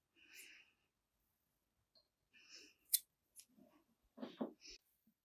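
A few sharp, separate snips of scissors cutting twine cord ends on a plant hanger, spaced irregularly with quiet gaps between, close and fairly soft.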